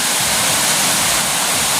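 Loud, steady roar of a rain-swollen river in flood after a storm, rushing water filling the whole stretch with dense broadband noise, close and continuous with no pauses.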